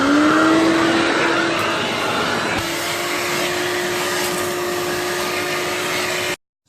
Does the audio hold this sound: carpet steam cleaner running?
yes